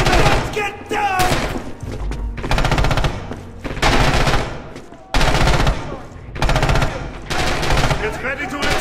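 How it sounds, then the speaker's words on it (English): Machine gun fire in the World War II shooter Red Orchestra 2: Heroes of Stalingrad, loud and close, coming in long rapid bursts with brief gaps and heavy thuds mixed in. "Get ready to return fire!"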